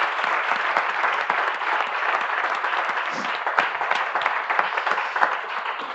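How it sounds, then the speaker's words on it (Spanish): An audience at an environmental talk event applauds four panelists after their introduction, a steady dense wash of clapping from many hands filling the room without pause. "y les damos un aplauso, ¿no?"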